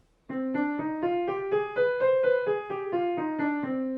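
Solo piano runs up and back down a harmonic minor scale, steady separate notes after a brief silence, clear and moderately loud.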